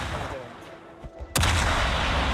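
Warship guns fire in the naval battle game World of Warships: a sudden loud blast that hangs as a sustained rumbling roar, following a quieter stretch of ambient hum.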